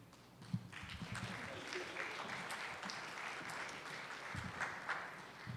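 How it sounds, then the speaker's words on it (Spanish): Audience applause for a speaker about to present a talk on geological hazards and risks, a steady crowd clapping wash with scattered individual claps, moderate and continuous through the clip, with a few voices faintly mixed in. "Un fuerte aplauso."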